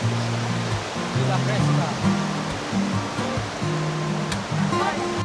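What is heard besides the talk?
flowing river water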